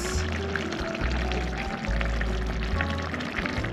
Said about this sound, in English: while it's boiling or simmering, you pour in the scrambled eggs.